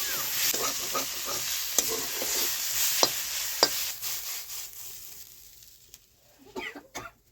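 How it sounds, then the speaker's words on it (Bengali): Mustard greens frying in a pan give a continuous sizzle with stirring and a few sharp clinks from a utensil, close by. The sound fades toward the end before brief clattering returns. "বৌমা তো এটা খুব ভালো করে ভাজা ভাজা করে নিয়েছে"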